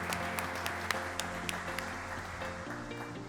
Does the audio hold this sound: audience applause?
yes